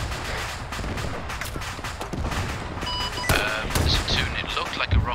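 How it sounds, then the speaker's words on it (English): Dense bursts of automatic gunfire rattle in the Arma 3 video game, followed by a heavier rocket blast midway, with scattered shots and impacts continuing afterward at moderate loudness. "it looked like a rocket that came from the south"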